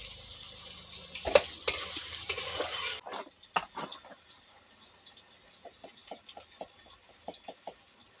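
Potatoes frying in a pan for a Bengali fish curry with greens, first a loud burst of sizzling and stirring, then quieter spluttering and a run of light regular ticks and pops.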